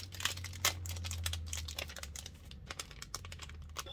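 Thin plastic backing being peeled from a homemade wax seal, heard close up as a run of small crinkly crackles and ticks over a low steady hum.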